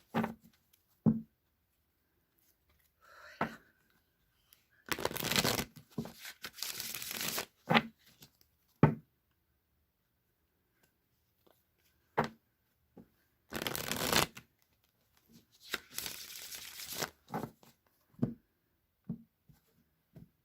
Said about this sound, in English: I'm going to shuffle 3 times, cut the deck, draw a card